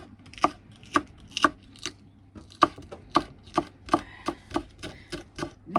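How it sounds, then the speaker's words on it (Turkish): Steady knife chops through peppers on a cutting board, a dozen or so sharp close knocks in an uneven rhythm with short pauses, no talking. "Şu biberleri kalın kalın doğrayalım da ayıklaması kolay olsun"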